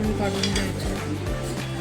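Rice being stirred with salt and a glass of water in a pressure cooker, a spoon scraping and clinking against the metal pot in a steady rhythm, close and fairly loud.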